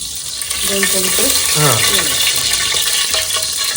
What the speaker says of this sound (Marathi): फोडणी देत आहेत सुक्या मटणासाठी